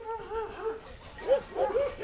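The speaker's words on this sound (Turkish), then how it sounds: "Bu da av köpeği maşallah hep av köpeği" A hunting dog on a farm whimpers and yips in a string of short, rising whines and small barks, close and moderately loud.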